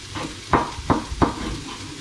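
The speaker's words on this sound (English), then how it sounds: "The onions and the garlic, just browning them off a little bit." Onions and garlic brown over medium-low heat in a frying pan for carbonara, giving a soft, low sizzle with three distinct utensil taps against the pan.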